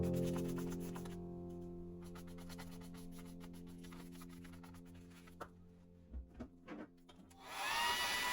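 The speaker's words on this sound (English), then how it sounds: "I like to use a blow dryer to facilitate that" A hair dryer blowing on acrylic paint on sketchbook paper, a steady loud motor whine and airflow that cuts off partway, followed by a few soft knocks and a brief rush of noise.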